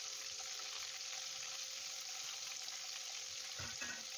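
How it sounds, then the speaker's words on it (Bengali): Paneer pieces fry in leftover onion-flavoured oil from making fried onions, a faint, even sizzle and crackle that runs steadily throughout with a brief scrape near the end and no voices. "তারপরে যে বাকি তেলটা আছে ওতে পনিরের টুকরোগুলো দিয়ে ভেজে নেব।"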